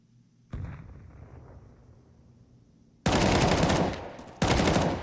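Bursts of AK rifle fire ring out in a Counter-Strike match: one burst followed by a decaying tail, then two louder, sustained automatic volleys close by.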